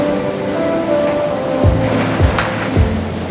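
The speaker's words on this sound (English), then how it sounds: "because it's quite windy" Strong wind buffets the microphone over a continuous roar of sea waves at a sea pool in Bude, Cornwall, with a few dull low thumps of gusts or surf, loud and close throughout.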